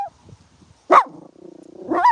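A chihuahua gives two sharp, close barks with a quiet gap between them; the second trails into a short whiny yip.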